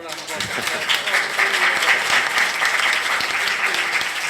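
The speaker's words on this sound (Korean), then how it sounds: "좀 박수를 한번" An audience at a 2015 global health ODA forum panel discussion gives a professor a warm round of applause, steady dense clapping that rises quickly and holds for several seconds, with some voices mixed in.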